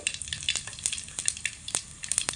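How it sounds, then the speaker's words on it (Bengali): Black cumin and whole cumin seeds crackle and sizzle in hot oil over medium heat, with quick popping bursts over a continuous frying hiss, close and fairly loud. "গরম তেলের মধ্যে দিয়ে দেব এক চিমটে কালো জিরে ফোড়ন এক চিমটে গোটা জিরে"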